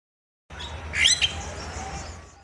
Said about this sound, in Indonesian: Jalak Bali atau Rothschild's mina, juga dikenal oleh para ahli burung dengan sebutan Bali Starling.